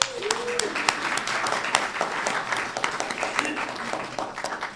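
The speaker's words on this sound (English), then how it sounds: "So let's give them all a clap" A congregation claps at a spiritual centre service, a lively patter of many hands with sharp individual claps standing out while voices murmur along.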